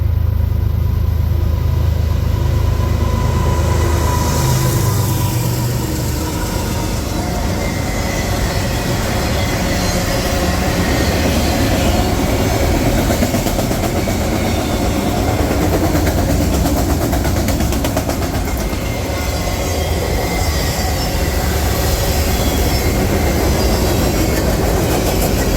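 A CSX freight train rolls past on the former New York Central line in New York State, a loud continuous rumble of wheels and cars with squealing metal running the full length, close by and unbroken.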